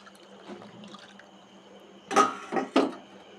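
Milk poured into a bowl of palm fruit batter made with semolina, a brief liquid splash in two or three quick bursts after a quiet stretch, close and fairly soft with no talking.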